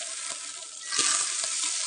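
Butter and olive oil sizzle in a pot on the stove as soup is started, a soft steady crackle that swells louder partway through, with faint clinks from stirring.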